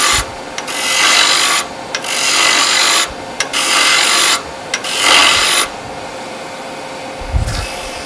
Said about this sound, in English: I'm just going to use my bowl gouge and I'm going to shear cut it.